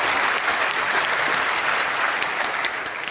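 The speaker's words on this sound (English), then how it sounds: "Applause." Audience applause fills a convention developer panel at ExileCon, a dense, steady wash of clapping from a crowd that holds at full strength for a few seconds and eases slightly at the end.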